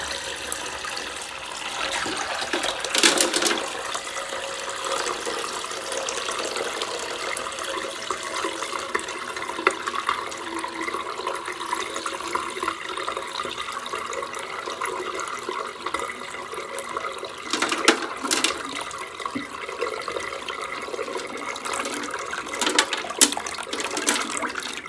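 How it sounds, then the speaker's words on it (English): Water from a snail tank being poured down a drain, a steady rushing, gurgling flow lasting the whole stretch with occasional louder splashes. "And dump this down the drain."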